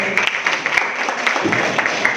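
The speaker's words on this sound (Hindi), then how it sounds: "और एक बार सबसे पहले जोरदार ताली हम सबके लिए।" A short burst of enthusiastic crowd clapping at a Hindi comic poetry gathering in Gurugram, dense, close and evenly sustained over a couple of seconds.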